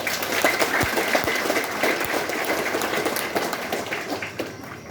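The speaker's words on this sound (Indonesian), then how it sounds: "Tepuk tangan untuk mereka." An audience at a new priest's ordination celebration gives sustained, dense applause that stays loud and even, with a few low thumps underneath as the clapping slowly eases toward the end.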